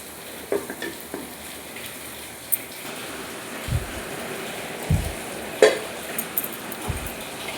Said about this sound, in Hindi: देखो केते जोर वर्षा हो